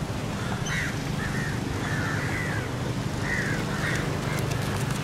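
A crow caws several times at moderate distance by a resort jetty in Kalutara, Sri Lanka, each call short and harsh, over a steady wash of outdoor background noise.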